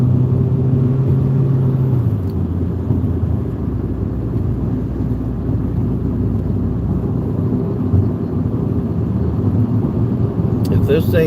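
A car travels along a highway during a storm chase ahead of a tornado-warned storm in Kentucky, its steady road rumble and wind roar filling the cabin loudly and without a break, with no talk heard.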